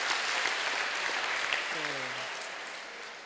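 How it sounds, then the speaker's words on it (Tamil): Applause from parents and students in a school hall during a motivational talk, a dense wash of clapping that fades over a few seconds, with a brief voice partway through. "சபாஷியா கைதட்டுங்க"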